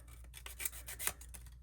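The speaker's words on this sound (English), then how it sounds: "sand this one off" Small parts of a 1:12 scale dollhouse poolside lounger being sanded with sandpaper by hand, a quiet, close series of quick scratchy strokes in an uneven rhythm.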